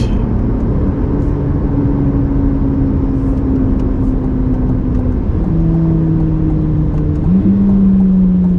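A Chevrolet Corvette C8 Z06 engine drones under load on a drive, its pitch climbing steadily through the gears with shifts around five and seven seconds, loud and close throughout.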